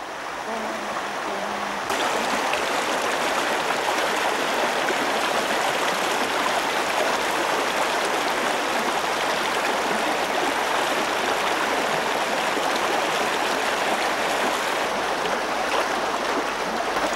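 The Kokernag river in Kashmir, a clear trout stream, rushes and gurgles in a steady, close, full wash of flowing water that runs without a break, with no voices.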